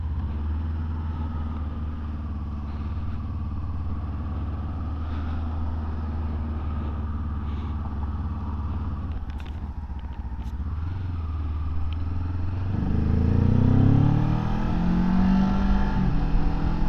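A Kawasaki Ninja 7 Hybrid motorcycle pulls away in first gear, a steady low engine drone rising into a louder surge as it rides off, with wind rumble and no talk.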